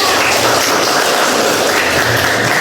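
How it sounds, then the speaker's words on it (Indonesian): Classroom applause for a student teacher, steady dense clapping filling the whole moment at close range with no voices over it. "Tepuk tangan untuk saya"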